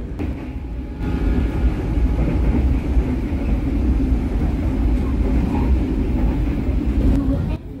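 Ciremai passenger train on the Cirebon–Bandung line rolling along the rails, a steady close rumble and rattle heard from inside the carriage, constant throughout and ending with a slight drop near the end.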